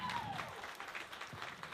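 A crowd at a youth sheep market show claps for the kids, a brief burst of applause that is fairly faint and distant, mixed with a little background talk.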